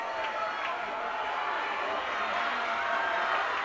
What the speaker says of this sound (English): Probably hear the crowd in the background going crazy.